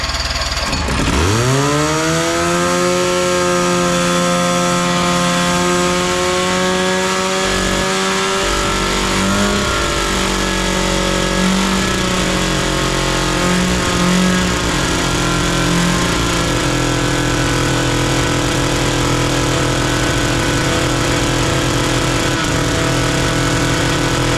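A 6x6 Big MAX amphibious vehicle's two-stroke engine fires up after ether and choke, then runs loud and steady at close range with a raspy, buzzing idle and slight pitch shifts, no talk over it.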